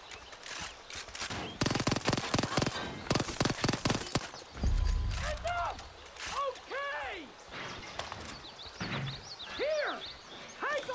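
Rapid bursts of gunfire in Far Cry 5 crackle in the opening seconds, followed by a low thump and a mix of game effects and chirping sounds, with a voice speaking over parts of it.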